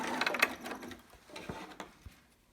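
A sewing machine stitching the elastic edge of a newborn romper, heard as a quick, close rattling burst of stitches that tapers off into a few softer mechanical clicks.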